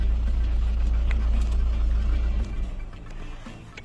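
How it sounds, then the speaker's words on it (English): A car engine idles with a steady low rumble, then cuts off abruptly partway through, leaving a quieter, uneven settling hum; no talking. "Let me shut this car down."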